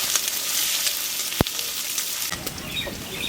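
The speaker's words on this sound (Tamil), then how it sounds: "அப்படியே எண்ணெயிலே நல்லா வதக்கிக்கிறேன்" Garlic and dried red chillies sautéing in hot oil for a garlic-pepper kulambu, a bright, close sizzle with a sharp clink of a utensil and stirring scrapes near the end.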